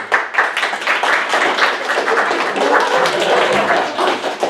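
A comedy club audience claps steadily for two improv performers called to the stage, a dense, loud crowd applause filling the whole stretch without letup.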